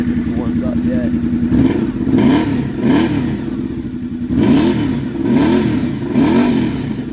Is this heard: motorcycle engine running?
yes